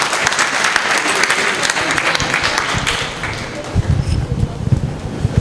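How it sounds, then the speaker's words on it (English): An audience at a national seminar at Guru Nanak Institute breaks into loud, close applause, dense at first and thinning slightly toward the end, with some crowd noise mixed in. "Let's have a round of applause for the question"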